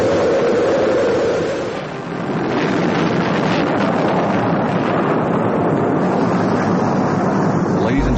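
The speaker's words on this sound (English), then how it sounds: "We have main engine start." NASA rocket main engines igniting at launch, a loud, continuous broadband roar that dips briefly early on and then holds steady and rumbling.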